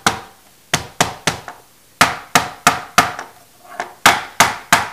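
A rusty hammer taps on wood while making an acorn candlestick craft, giving sharp, close, loud knocks in irregular groups of two to four, with short pauses between, with no talking.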